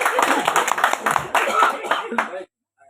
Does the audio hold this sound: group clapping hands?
yes